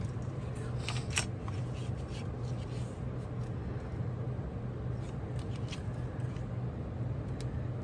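Scissors trim a cardboard popcorn box with faint, scattered snips over a steady low background hum.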